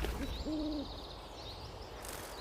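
A bird in the forest along the Changbai River on Changbai Mountain gives a single low, hooting call early on, fairly close and clear, followed by quiet ambient forest background.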